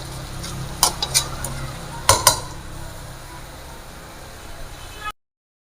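Beef Shinwari karahi is dished out of a pan with a few sharp metallic scrapes and clinks of a utensil against the metal, scattered over a low steady background hiss.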